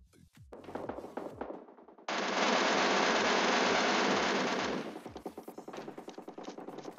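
Automatic fire from the Mk14 EBR designated marksman rifle in PUBG Mobile: one loud, dense burst lasting nearly three seconds, set against a steady rhythmic ticking of game sounds before and after.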